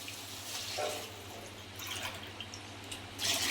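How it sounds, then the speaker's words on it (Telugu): Water poured from a glass into a cooking pot while making soya chunk biryani, a steady splashing trickle with brief dripping bursts, close and fairly soft, no voices. "4 గ్లాస్ పోస్తున్నానండి వాటర్"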